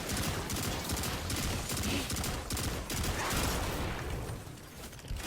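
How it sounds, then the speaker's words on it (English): Pulse rifle fire in Destiny, played as a Striker Titan on a solo Master Presage mission, comes as dense rapid bursts of loud gunshots layered with game effects and a constant mix of action sounds. "Pulse Rifle putting in really good work."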